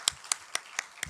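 A church congregation clapping during a Sunday service, five crisp, evenly spaced claps in quick succession, fairly close and clear with no talk.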